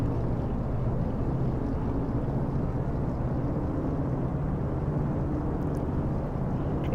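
Twin engines of a DC-3 in the X-Plane 11 flight simulator running up for a power test, a steady, loud, unbroken low droning roar that holds its level throughout.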